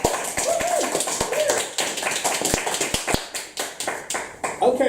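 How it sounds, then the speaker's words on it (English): Scattered applause from a small audience at a poetry reading, uneven close claps and taps with a voice talking over them, the clapping thinning out toward the end. "Can we have a little bit of a round of applause for everybody reading so far?"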